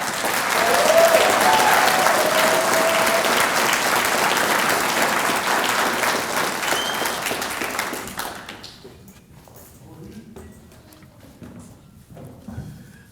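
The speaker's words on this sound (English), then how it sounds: "let's give a great big round of applause for all of them" A graduation ceremony for recruit firefighters at a community college fire academy, where a large crowd breaks into loud, sustained applause that thins after about eight seconds into a few scattered, fading claps and quiet room noise.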